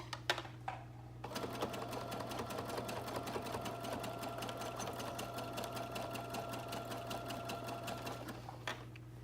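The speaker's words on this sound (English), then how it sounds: "when I was sewing the elastic in place" A sewing machine stitches elastic into a pajama waistband, starting with a few isolated clicks, then running in a steady rapid mechanical patter with a constant motor hum before stopping, close up and without speech.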